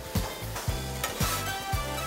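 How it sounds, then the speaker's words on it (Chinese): Curry fried rice with shrimp and egg being stir-fried in a lightly oiled pan, with steady sizzling and a regular series of scraping strokes roughly every half second, close and loud with no talk. "现在再把它炒热就好了"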